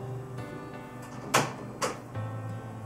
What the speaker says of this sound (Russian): Да, вижу, принтер ожил.